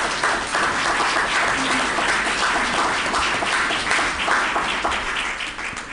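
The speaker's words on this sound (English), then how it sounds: "Let's give them both applause," Audience applause at a Chamber of Commerce election forum in Edmonds, a sustained, fairly loud patter of many hands clapping from a seated crowd, tapering slightly at the end.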